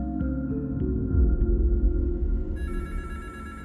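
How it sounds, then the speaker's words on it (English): A desk telephone rings under a low rumbling music bed, its short repeated tones moderately loud before a brighter ringing sound takes over near the end. "Dr. Lawrence Foster picked up the ringing phone on his desk."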